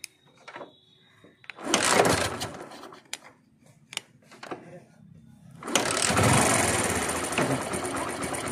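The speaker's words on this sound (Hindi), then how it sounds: "देखिए बाइक को स्टार्ट कर दिए हैं, थोड़ा और हम बाइक का यहाँ से रेस बढ़ाएंगे" Bajaj Platina 100cc motorcycle engine starting with a few short bursts, then revving up into a loud, steady high-speed roar that continues to the end; voices speak briefly early on.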